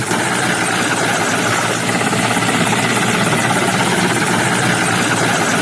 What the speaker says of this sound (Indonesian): upaya pemadaman juga dilakukan melalui udara lewat helikopter bombing